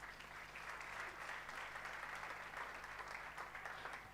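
A church congregation applauds together, a steady even clapping that holds for several seconds, fairly faint and without voices over it.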